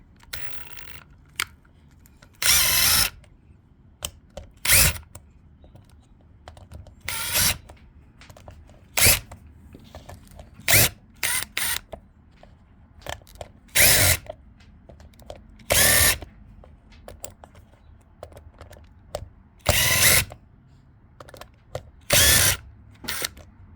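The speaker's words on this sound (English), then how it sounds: "you're going to want to grab your drill" A power drill whirs in repeated short bursts, driving screws one after another into RC car tires to make ice pick tires, with quiet clicks and handling noises between bursts.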